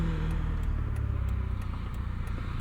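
A 2009 Mazda RX-8 rotary engine and exhaust drone at steady cruising revs, a deep, smooth hum with faint ticks recurring at even intervals, continuous and moderately loud.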